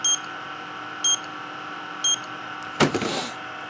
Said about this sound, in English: Stop it beeping. Stop beeping at me.